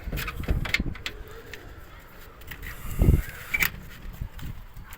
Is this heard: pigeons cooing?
yes